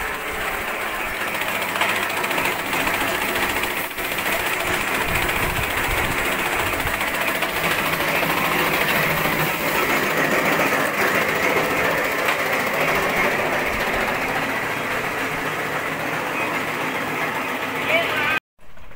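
A cutter machine runs continuously at a workshop near a kiln, a steady mechanical whir with broadband rattle holding level throughout before cutting off abruptly at the end, with a voice talking over it.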